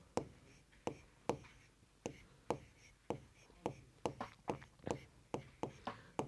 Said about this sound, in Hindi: तो हम यहां लिखेंगे 800